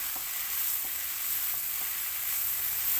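Jackfruit being stir-fried in a pan sizzles in a steady, continuous hiss with faint stirring scrapes, close and fairly loud, with no talking.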